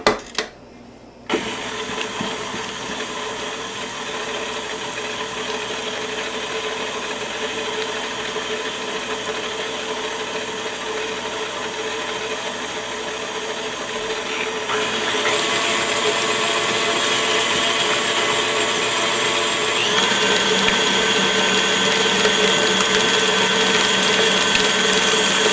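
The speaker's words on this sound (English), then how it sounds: "a tablespoon of fresh squeezed lemon juice, and a 1/2 tablespoon of grated lemon peel. And we blend all that in." An electric mixer starts with a brief click and then whirs steadily, blending fresh lemon juice and grated lemon peel into spritz cookie dough. The motor hum climbs louder in two steps as the speed rises, with no voices.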